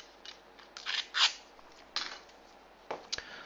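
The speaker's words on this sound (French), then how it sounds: "Je mets un bout de scotch." A strip of blue adhesive tape is pulled off the roll and pressed down on a CNC workpiece, giving several short close ripping and rubbing bursts separated by quiet gaps.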